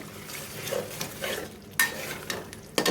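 Taro stalks stir-fried in a pan for a prawn dish, a low crackling sizzle with occasional louder scrapes and knocks of a spatula, close with no talk.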